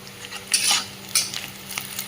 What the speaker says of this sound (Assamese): পিঁয়াজখিনি এয়া ভজা হৈ গ'ল।